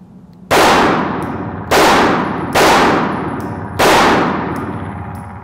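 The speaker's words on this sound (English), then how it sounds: "first shots." Four sharp, loud shots from a Smith & Wesson M&P9 pistol caliber carbine on a shooting range, each a crisp crack with a ringing decay, spaced unevenly about a second apart, no talk.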